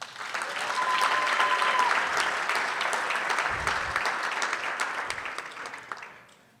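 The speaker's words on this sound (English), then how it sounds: "Let's give them another round of applause." Audience applause for Exemplary Support Staff of the Year award winners, a dense, steady burst of clapping lasting several seconds before tapering off at the end.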